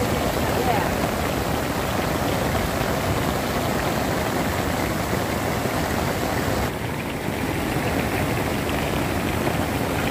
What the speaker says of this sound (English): Yes, the rain has started here.